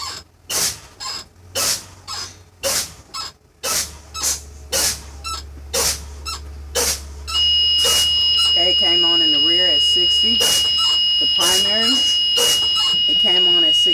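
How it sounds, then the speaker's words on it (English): A truck's low-air warning buzzer comes on as air is released from the brake system during a pre-trip air brake test, a steady high-pitched electronic tone sounding continuously for several seconds after a stretch of speech. "I'm again releasing air to my low air warning light and buzzer comes on."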